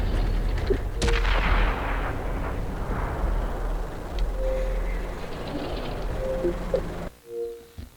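Gunfire from an FV215b tank in a World of Tanks battle replay on Prokhorovka, a loud booming shot near the start followed by a rumbling, rolling tail and vehicle noise, fading into quieter clicks at the end.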